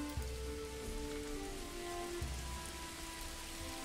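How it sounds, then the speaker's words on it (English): Steady rain patters on surfaces in the Manor Lords medieval village game, an even, continuous hiss with a soft low hum beneath and no talking. "It's raining. Look at that."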